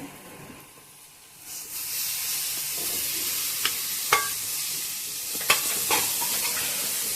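Chicken liver frying in a pan, a loud steady sizzle that starts after a quiet moment, with a few scraping stirs and clinks of a spoon against the pan.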